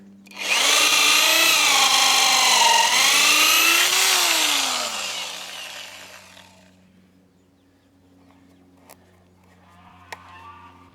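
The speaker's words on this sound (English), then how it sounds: "Got my power drill hooked up to my DeWalt charger." A DeWalt power drill whirs loudly at high speed for several seconds, its pitch rising and falling, then winds down and stops, followed by faint clicks.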